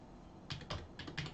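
A computer keyboard being typed on while logging into a Google account, a few soft clustered keystrokes in two short bursts, close but faint, no talking.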